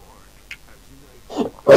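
A single sneeze from a man bursts out sharply and close at the very end, after a brief quiet intake and small breathy sounds.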